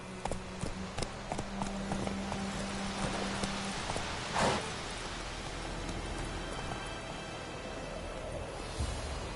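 Horse hooves clip-clop at a walking pace in The Witcher video game, a steady rhythmic patter over a backdrop of falling rain, with one brief louder swish partway through.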